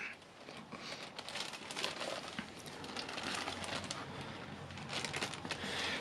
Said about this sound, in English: I'm just going to unwrap this,